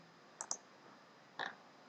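Two quick mouse clicks close together, then a single click a moment later, crisp and near in an otherwise quiet room while selecting something on a web page.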